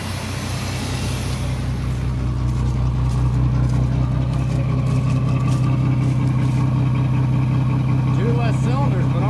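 A 1986 GMC Caballero's 4.3 engine idling with a lopey, rhythmic chop, steady and close throughout, with a brief voice near the end.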